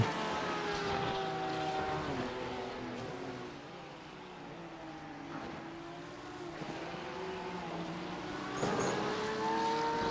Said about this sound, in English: You hear that Porsche just dropping down through the gears, trying to get it slowed up as much as he can